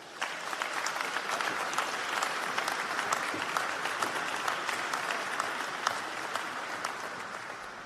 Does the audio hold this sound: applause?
yes